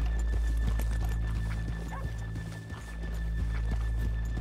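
Horses walking with hooves clopping in Red Dead Redemption 2, with a steady, close rhythm of hoof beats over a low rumbling background and an occasional snort.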